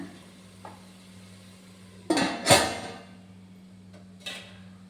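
A metal lid settles onto a one-pot cooking pot with a loud scraping clank, preceded and followed by fainter knocks, over a steady low kitchen hum.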